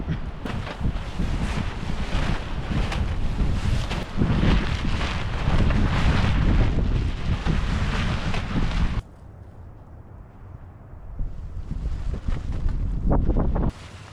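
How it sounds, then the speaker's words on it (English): Strong outdoor wind roars and buffets a large tarp being set up beside a camper in freezing weather, loud and continuous for most of the stretch, then dropping to a softer rush before gusting up again. "the wind is just blowing at 100 miles an hour"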